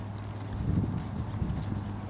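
A horse loping over the ground, its hoofbeats a steady rolling clip-clop close by, fairly soft and even, with no talk over it.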